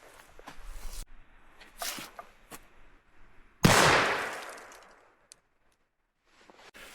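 A single loud gunshot from a Merwin Hulbert Pocket No. 1 .38 revolver, a sharp close blast with a ringing tail fading over about a second, preceded and followed by quieter handling clicks and rustles.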